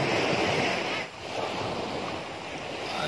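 Ocean waves washing onto a white sand beach at a resort, a steady loud roar of surf with wind buffeting the microphone, briefly dipping before rising again, close and continuous.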